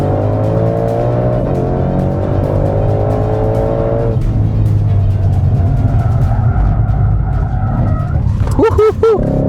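A 2020 Ford Mustang Shelby GT500 engine with automatic transmission revs hard and loud on a track, pitch rising and dropping through gear changes, ending with tire squeal and a voice shouting over it.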